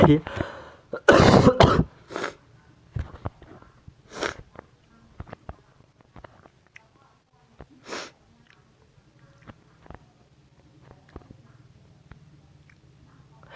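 Someone with a cold blows a runny nose in several wet, snorting bursts, loudest near the start, followed by quieter sniffs and scattered small noises, with a faint steady hum beneath.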